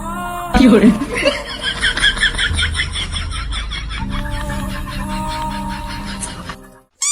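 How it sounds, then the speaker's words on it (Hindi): A rooster clucks and crows in a comic sketch, its calls blending with laughter and chuckling and someone talking, loud and close, before the sound cuts off abruptly at the end. "यही है वो मुर्गा?"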